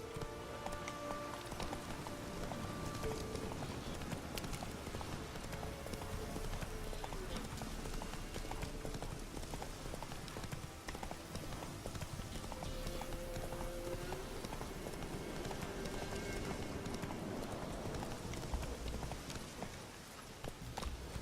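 A horse gallops in The Witcher 3, its hooves clip-clopping in a quick, steady rhythm for the whole stretch over a busy game background.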